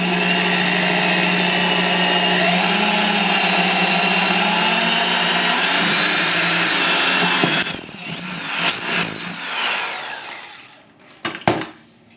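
A power drill whines steadily for several seconds as it bores a bridge pin hole in an acoustic guitar. It then winds down into scattered clicks and brief knocks.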